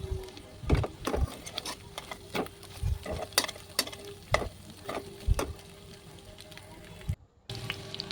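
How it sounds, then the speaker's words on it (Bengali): Two salted eggs frying in oil in a pan, a light sizzle broken by repeated spatula scrapes and knocks at an uneven rhythm, close by, with no voices. "ডিমটা ভালো করে একটু ভেজে নিচ্ছি।"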